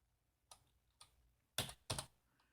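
Typing on a laptop keyboard by someone working in the Vim editor: four short key-press bursts spread over a couple of seconds, the last two louder and denser, close up in a quiet room.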